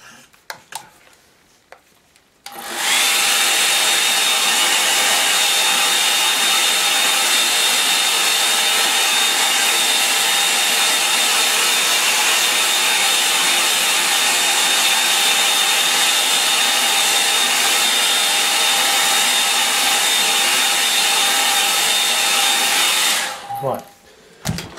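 A hair dryer blows steadily on a watercolour line-and-wash painting for about twenty seconds, a loud continuous whirring roar with a faint high whine, starting and cutting off abruptly.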